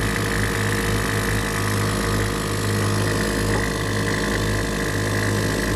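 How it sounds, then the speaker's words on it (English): Air ride suspension pumps run on a 2021 Dodge Charger Scat Pack, giving a steady mechanical hum and whine, with low, even engine rumble beneath, unchanging and close throughout. "and this pump is on right here."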